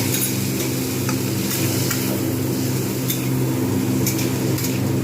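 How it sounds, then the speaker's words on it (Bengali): Ginger garlic paste loosened with a little water fries in a pan during a bitter gourd dish, giving a steady close sizzle with repeated scraping strokes of a spoon throughout and no voices. "ভালোভাবে আমি কষিয়ে নেব"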